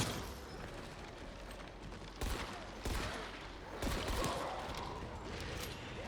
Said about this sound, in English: let's get a few shots off really quick